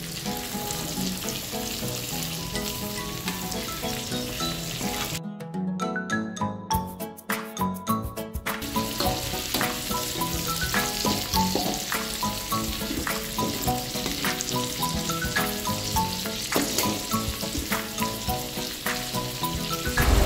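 Chilies and shallots frying in a pan with a dense, steady sizzle and occasional stirring scrapes. A short quieter gap comes partway through, then the sizzle continues, and nobody speaks.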